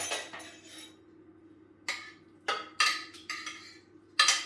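Reserved onions going into broth in a Thermomix bowl, heard as a handful of sharp clinks and knocks of a utensil against the bowl, spaced irregularly over a quiet background hum.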